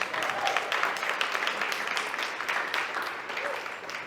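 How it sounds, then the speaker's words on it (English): An audience at a financial empowerment summit keynote in Buffalo, New York, claps steadily for an elderly mentor sitting in the back, a moderate, continuous patter of many hands that tapers slightly toward the end. "Please give a round of applause to my mentor"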